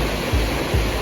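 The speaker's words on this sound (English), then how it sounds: "the sluices are open now, which means the water is being let out of the lock." Water from a canal lock pours out through open sluices on a tidal river navigation, a steady, loud rushing roar with no other sounds.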